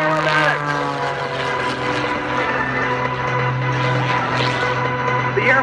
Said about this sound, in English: The airplane is light and very highly powered.